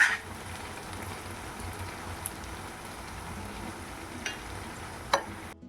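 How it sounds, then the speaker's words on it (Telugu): Bitter gourd pieces roast and fry in a pan in village-style cooking, making a soft, rain-like crackling hiss with occasional faint clicks and a louder tap near the end. "ఈ విధంగా వీటిని రోస్ట్ చేసుకోవాలి, బాగా ఫ్రై చేసుకోవాలి"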